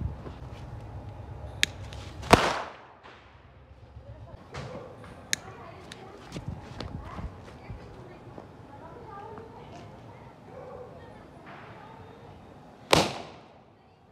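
Big sutli bomb firecrackers burst during Diwali in two sharp, loud blasts, one near the start and one near the end, with lighter pops and crackles and people talking in between.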